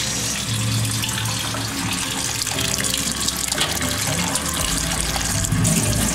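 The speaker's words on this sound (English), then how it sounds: "we're gonna rinse it off one more time" Cut squid rings being rinsed under a running kitchen tap, a loud continuous gush of water splashing into a sink with shifting tone as the rings are moved about, close and steady, no voices.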